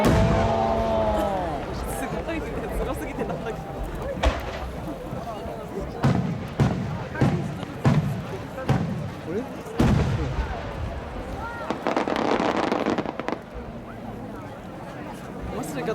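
No. 10 firework shell with rising rings at a Japanese national fireworks competition, heard as a string of sharp booming bursts and crackles over a steady crowd murmur, with a dense crackling flurry toward the end.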